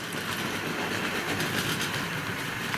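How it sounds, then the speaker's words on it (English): Tri-ang Super 4 model freight train rolling past on a 1950s-style layout, a steady rattling clickety-clack of small wheels on track held close and even for a few seconds, with no voices. "Just wait for the freight train to go by."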